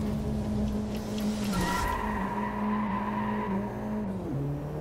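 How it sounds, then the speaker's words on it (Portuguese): Tires squeal on a Mini Cooper JCW GP with a 1.6 16V THP engine, front-wheel drive and six-speed manual, in the Drive Club racing game at a Scottish track; a sustained, loud screech over engine drone. "Cantou pneu."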